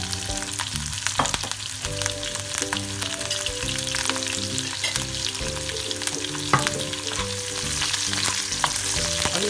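Curry leaves, garlic and green chillies hit hot oil with fenugreek seeds while making apple pickle, giving a steady close crackling sizzle with occasional stirring scrapes over a continuous hum, no talking.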